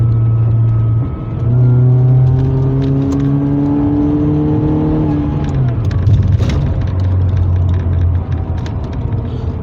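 A Mercedes-Benz 230 Kompressor's engine pulls through acceleration while driving, its loud close drone climbing in pitch, easing, then climbing again over continuous road and cabin noise.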